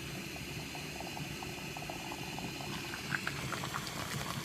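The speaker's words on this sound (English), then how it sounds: "I want to get it to a roaring boil. Okay, it's boiling." Water at a rolling boil in a Jetboil Zip camping stove, a steady close bubbling and seething with a burner hiss beneath and sharper pops growing toward the end.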